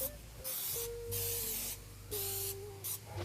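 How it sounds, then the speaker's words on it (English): Non-stick cooking spray hisses from a can in four short bursts with pauses between them, close and clear against a quiet kitchen background. "I'm gonna go ahead and take some non-stick spray"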